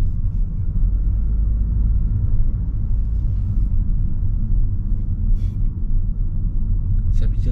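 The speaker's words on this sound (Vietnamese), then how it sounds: "Rồi, xe này sẽ tự động đi theo xe phía trước." A 2022 Honda HR-V rolls along at low speed on adaptive cruise control, heard from inside the cabin as a steady, heavy low road rumble with faint engine drone. No one speaks over the even noise.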